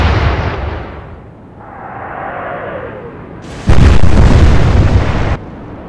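In the naval video game Atlantic Fleet, bombs burst on a warship as a loud, heavy explosion roars for nearly two seconds, after a lower rumbling boom and sweeping engine-like drone.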